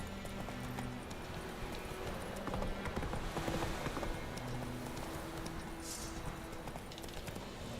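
Horse hooves clip-clop steadily through The Witcher 3, a dense rhythmic patter under a constant bed of game ambience and music, with a faint whinny-like cry near the end.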